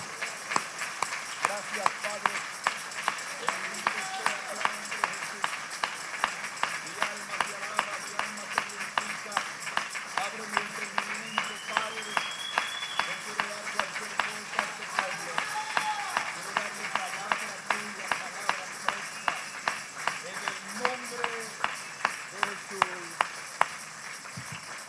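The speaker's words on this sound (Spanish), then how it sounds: "Podemos darle una ofrenda de aplausos a Jesús" A church congregation claps in steady unison rhythm for a long stretch, sharp regular beats filling the hall while voices sing and call out over the clapping.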